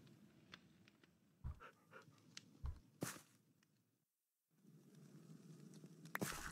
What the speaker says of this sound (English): I caught my dog.